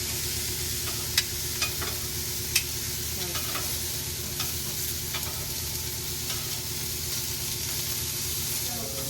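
Asparagus wrapped in prosciutto sizzles steadily on a grill, with a soft continuous hiss broken by a few faint clicks and taps.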